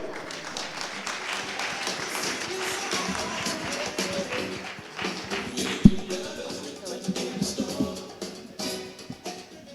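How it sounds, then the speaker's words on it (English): Audience applause at a CFA Society Malaysia career day talk, a steady crowd clapping that holds for several seconds at moderate level with scattered louder claps and some background shuffling. "Round of applause, please, everybody."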